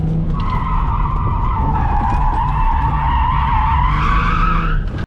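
A stock Infiniti G35 coupe drifts at Apple Valley Speedway, its tires skidding in one loud, sustained squeal over steady engine roar that holds for about five seconds before cutting off.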